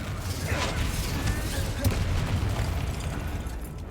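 Confringo explosive spell cast in the Hogwarts Legacy video game, with a fighting arena as the setting: a muffled blast and clattering mechanical noise in a busy, steady game mix, with no speech over it.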